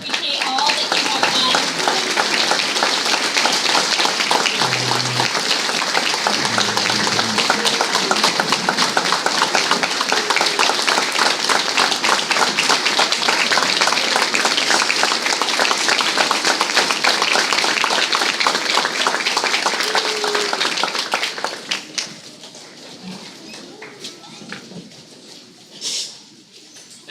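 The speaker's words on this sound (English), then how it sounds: "give them a nice round of applause" An audience at a school district board meeting in Depew gives a standing round of applause, with dense, steady clapping for about twenty seconds before it tapers off into a quieter room with scattered sounds.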